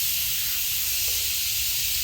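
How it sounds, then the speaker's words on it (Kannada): Steam vents from a whistle in a loud, steady, close hiss that lasts the whole moment, with a faint low rumble beneath and no speech. "ಈಗ ಒಂದು ವಿಸಿಲ್ ಬಂತು"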